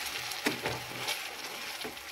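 Ground gravy stirred into frying makhana and peas in a dhaba-style pan, giving a soft sizzle with a few scraping spoon strokes, fairly quiet and without talk.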